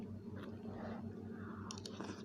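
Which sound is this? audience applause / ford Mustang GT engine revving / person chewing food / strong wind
person chewing food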